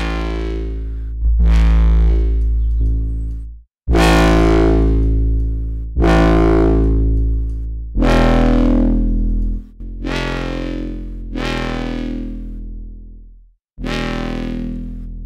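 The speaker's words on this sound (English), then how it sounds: "What I'm doing is emulating an older synth going into a preamp." Foghorn-style synth tones built in the Vital software synth and driven through preamp distortion and compression, heard as seven long, loud, gritty low blasts, each swelling then dying away, separated by brief gaps.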